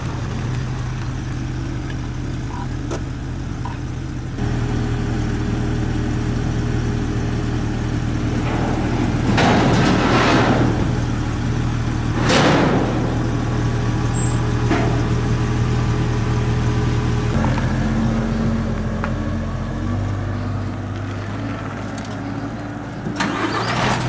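A car with a 2-inch lift starts and drives off a car carrier, its mid-pitched engine idling and revving steadily and loudly throughout with no talk.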